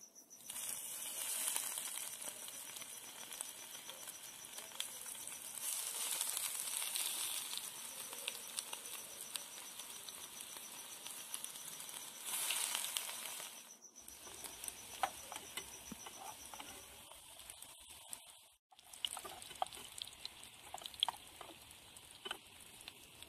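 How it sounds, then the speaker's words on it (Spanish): Sausage croquettes fry in hot oil in a pan, giving a dense, steady sizzle and fine crackle that swells and eases over the span, with a couple of brief breaks, close and moderately loud, no voices. "Ahora vamos a freírlas. Aquí ya tengo un sartén que lo puse 5 minutos antes para poder calentar bien el aceite"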